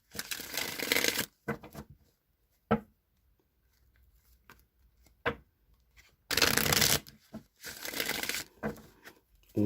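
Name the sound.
shuffling a Rider-Waite tarot deck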